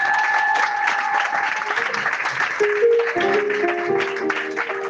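A church congregation applauds steadily together during a Sunday service, a dense wash of clapping lasting throughout, with keyboard music playing alongside.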